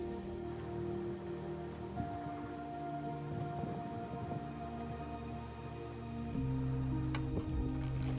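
Water sprays steadily across solar panels during a quick rinse on private land, a continuous hissing wash that grows a little heavier near the end, with no talking.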